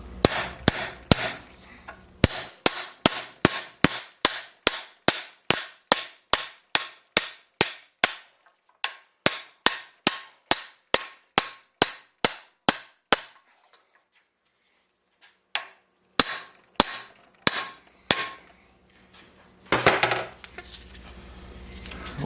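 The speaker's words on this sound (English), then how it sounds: "I'm not using a giant mallet, just this hammer I got here" Rapid, regular hammer blows ring sharply on a Mercedes W108 subframe, a long run of evenly spaced raps that pauses briefly, then resumes in a shorter burst.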